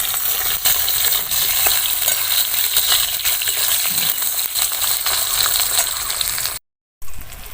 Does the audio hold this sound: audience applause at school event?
no